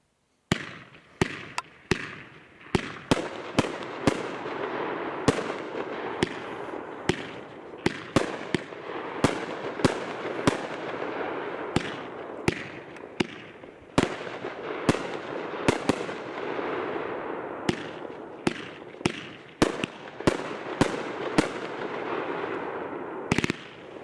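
A Coast to Coast 20-shot firework cake from Great Grizzly fires a long volley of loud, sharp bursts at an uneven, rapid pace, each crack followed by crackling.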